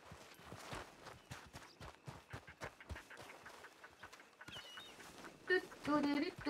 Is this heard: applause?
no